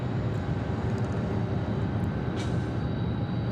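A UPS cargo plane taxis fast at Atlanta Hartsfield-Jackson airport, a steady low engine rumble and broadband roar holding constant throughout, moderately loud with no voices.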